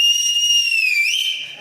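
One sharp, high-pitched whistle is blown at an office inauguration celebration and held steadily for over a second, with a slight wavering near the end.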